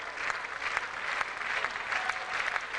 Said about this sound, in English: the rhythmic applause of the crowd in the West Grandstand